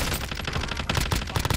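Rapid bursts of gunfire in Call of Duty Warzone, set in the gulag: dense, repeated shots in quick succession, loud and close, with no talking.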